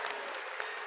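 A brief burst of audience applause at a district panchayat representatives' honour ceremony in Tosham, Bhiwani, dense continuous clapping from a seated crowd, heard alone without speech.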